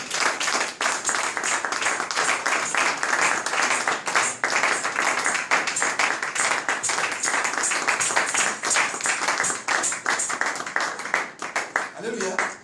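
Congregation applauding during a French-language church service, a long dense stretch of rapid rhythmic clapping sustained at an even level, with voices mixed in beneath it.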